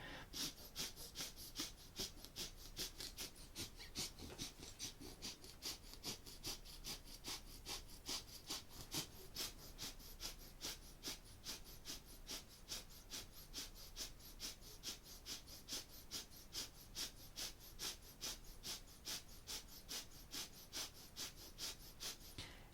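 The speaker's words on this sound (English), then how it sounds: "eyes are closed, focused inward, breath of fire" Rapid yogic breath of fire through the nose, a kundalini kriya for the solar plexus: steady, evenly spaced sharp nasal exhales pumping continuously at close range, with no talking.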